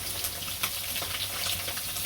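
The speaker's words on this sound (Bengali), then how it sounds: "আমার মাছগুলো ভাজা হয়ে গেছে" Fish fry in oil in a pan, giving a continuous dense sizzle with small crackling pops, close and steady throughout.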